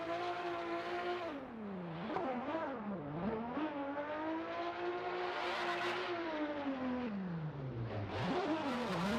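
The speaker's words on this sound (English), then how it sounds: "We're still doing burnouts here." Race cars doing burnouts in the burnout box at a drift event at Sportsland Sugo, with a loud, continuous engine roar rising and falling through held revs, close and steady, with no talk.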